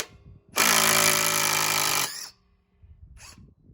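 A DeWalt impact driver drives a screw with one loud, close, buzzing hammering burst lasting about one and a half seconds, then stops, followed by brief faint handling noise.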